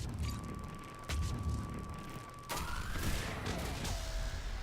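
Missile launcher firing in the video game Mass Effect 3, a loud whooshing blast followed by a rising streak of sound amid dense battle noise, with a second burst later.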